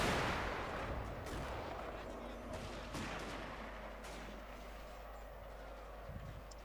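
Musket and artillery volleys in the video game Shogun 2: Fall of the Samurai, a loud, dense rumble of gunfire and booming cannon blasts with several sharp cracks standing out, continuous throughout.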